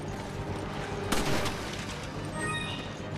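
Heavy cannon fire in the Resident Evil 5 video game: one sharp, loud blast followed by a short rumbling decay, with quieter background game ambience before and after.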